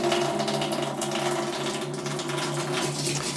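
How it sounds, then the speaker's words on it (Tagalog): Water runs steadily from a tap during a home nail-care session, a continuous broadband rush with a low, even hum underneath that holds at a constant level with no break. "Mag-iipon na ako ng tubig"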